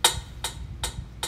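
Metronome on a Korg PA1000 arranger keyboard ticking four times at an even pace, crisp and fairly quiet, alone.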